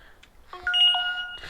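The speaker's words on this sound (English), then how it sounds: "oh, text message." A phone text-message notification sounds as a short run of bright electronic chime tones, sustained briefly and then fading, near and clear against a quiet background.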